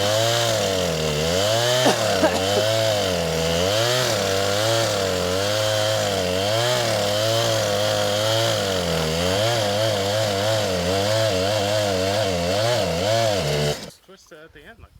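A chainsaw runs loud and close while cutting wood, its engine whining and bogging in repeated waves under load for about fourteen seconds before cutting off.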